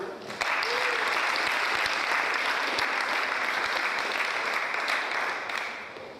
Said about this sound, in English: Can we give a round of applause for those people?